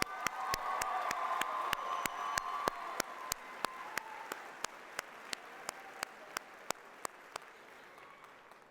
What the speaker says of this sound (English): Let's give them one thunderous round of applause.